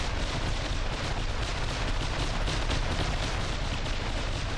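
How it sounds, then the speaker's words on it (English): Machine gun fire during a naval battle video game, a steady dense clatter of rapid gunfire mixed with booming artillery that keeps going at full loudness throughout. "We got the sound of machine guns."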